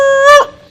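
A man on a Telugu comedy stage show imitates a dog with his voice, giving one drawn-out, whining yelp that rises then breaks off sharply, loud and close, with nothing else around it.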